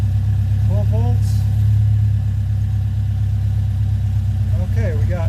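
A car engine idles steadily after starting, a constant low hum with faint mechanical tones, while a voice briefly sounds in the background.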